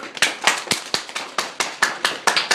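A person claps their hands to imitate falling rain, about a dozen sharp, evenly spaced claps in a steady pattern that sounds close and clear, with no talk.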